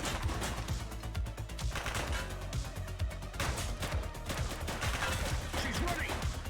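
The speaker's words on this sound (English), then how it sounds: "She's shooting!" Gunfire from The Precinct, a police video game, crackles in rapid overlapping bursts over a dense, loud game soundscape that runs without letup, with a voice talking underneath.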